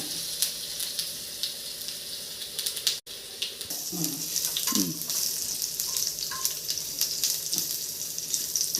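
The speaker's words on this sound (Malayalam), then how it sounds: "വെളുത്തുള്ളി ഇടണം" Garlic and mustard seeds sizzle steadily in hot oil in a home kitchen, a continuous crackling hiss at moderate level with occasional stirring scrapes and faint background noise.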